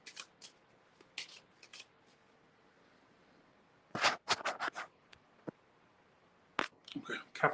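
Tarot cards are riffled and shuffled close by in several quick bursts of crisp flapping, separated by quiet pauses.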